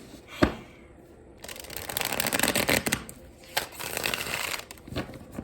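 Tarot cards shuffled by hand in close, crisp riffling bursts, a sharp tap near the start and then two longer flurries of papery flicking, with no talking.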